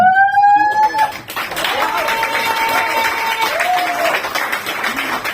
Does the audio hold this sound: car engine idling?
no